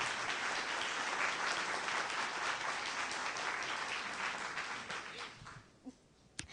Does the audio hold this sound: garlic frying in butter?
no